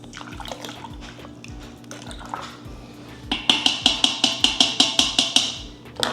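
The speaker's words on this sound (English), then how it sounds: "Churn the milk." Hot milk is stirred in a metal pot while making homemade paneer, the spoon clinking against the pot in a quick, regular series of sharp, close taps over a soft liquid swish.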